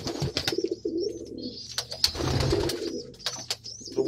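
Homing pigeons in a loft give soft repeated cooing calls, close and fairly quiet, with rustling and small chirps between coos and no talk.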